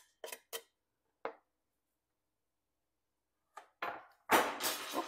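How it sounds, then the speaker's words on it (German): A knife clatters in a kitchen while lentil soup is being cooked, a few sharp metallic clinks spaced apart, then louder clattering and pan noise near the end, with no talking. "Ups, das war das Messer."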